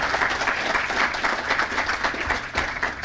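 Sustained audience applause at a security conference talk, a thick, even wash of many people clapping at close range, continuous throughout with no talk over it.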